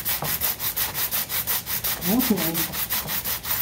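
A wooden slider for a chromatic harmonica is sanded by hand, an even rhythmic rasp of back-and-forth strokes about four per second, close and steady, with a brief spoken word in the middle.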